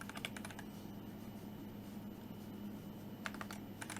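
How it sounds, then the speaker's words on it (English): Keyboard keys clatter as HTML code is typed, quick bursts of keystrokes at the start and again near the end with a low room hum steady in between. "we're gonna type in another unordered list"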